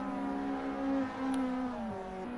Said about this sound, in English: These guys are revving it absolutely.